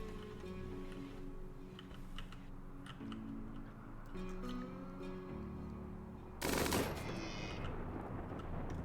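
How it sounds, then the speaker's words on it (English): Minigun fire in the video game Rimworld, a short, loud, ripping burst that erupts abruptly after quieter game ticks and tones, then fades into a lingering tail. "Minigun's so good that it angers the gods"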